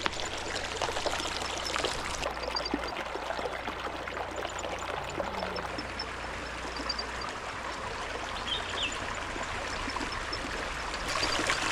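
Water of a shallow rocky stream runs and pours steadily and nearby, a continuous broadband splashing rush that holds constant for the whole stretch with no voices.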